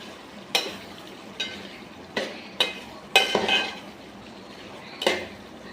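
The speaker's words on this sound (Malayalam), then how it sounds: "പിന്നെ എല്ലാം കൂടി ഒന്ന് മിക്സ് ചെയ്ത് പിന്നെ കുറച്ച് നേരം അത് അടുപ്പത്ത് വെച്ചു" Pepper soybean roast is stirred in a pan on a Kerala home stove. A spoon scrapes and clanks against the pan in six or seven distinct strokes spaced about a second apart over a soft frying hiss, close up with no talking.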